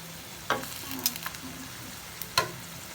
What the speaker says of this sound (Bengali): এখন মশলাগুলো কষায় নিচ্ছি